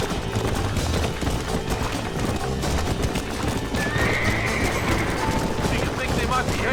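A horse gallops in the Western video game Red Dead Redemption, with fast steady hoofbeats and a whinny over a dense, loud mix of game sound that continues throughout.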